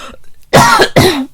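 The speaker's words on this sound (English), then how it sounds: "these coughing fits come at the most inopportune times" Two harsh, loud coughs in quick succession, close up, with a short gap between them and no talking.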